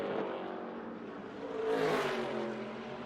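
A NASCAR Craftsman Series pickup truck's engine drones on a qualifying lap at Bristol's high banks, holding a steady note that swells and rises in pitch as it draws nearer mid-clip, then eases back.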